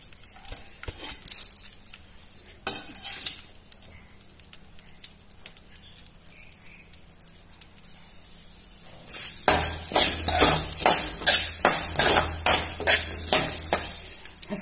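Green chilies fry in a pan with a soft sizzle while a spoon scrapes and knocks against the metal. The stirring starts sparse and quiet, then turns into a louder, busier run of clatter and hiss, with no talking.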